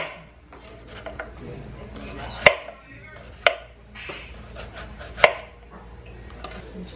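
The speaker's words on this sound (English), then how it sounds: "So I'm gonna cut the rings. really thin." A knife slices a purple onion into thin rings on a board, giving three or four distinct, sharp chops spaced a second or so apart, with soft handling noises in between.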